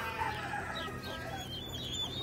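Young turkeys in a pen with a heat lamp make soft, high chirping peeps and clucks over a steady low hum, close and continuous.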